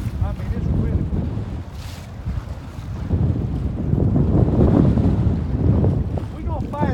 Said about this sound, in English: I mean, it's really windy.